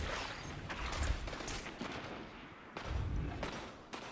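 Vostok gun firing ricocheting rounds in Destiny 2, a fairly faint string of sharp gunshots in uneven bursts with echoing cracks and low thumps, no voice over them.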